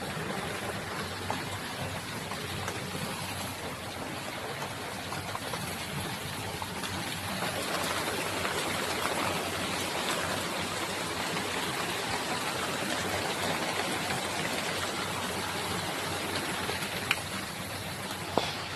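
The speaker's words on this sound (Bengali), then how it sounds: "এই দেখো বাইরে বৃষ্টি হচ্ছে।" Rain falling outside near a tea estate, a steady broadband wash of dense pattering with faint background rumble, continuous and moderately soft, with no talk.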